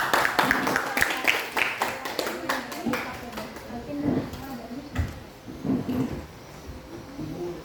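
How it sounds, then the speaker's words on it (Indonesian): Students in a classroom clap for a presenting group, a brisk burst of applause for the first few seconds that fades as voices take over. "Silakan kelompok Nusantara atau kelompok 1 beri tepuk tangan dong"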